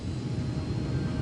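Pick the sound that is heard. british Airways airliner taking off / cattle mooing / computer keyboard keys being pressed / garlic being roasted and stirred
british Airways airliner taking off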